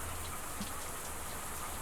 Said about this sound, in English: just looking up into the rain